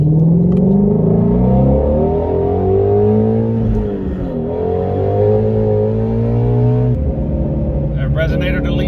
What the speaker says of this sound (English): Resonator delete sounds wonderful.